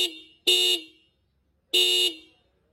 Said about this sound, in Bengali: এরপরে তোমাদের হর্নের সাউন্ড একবার শোনাবো।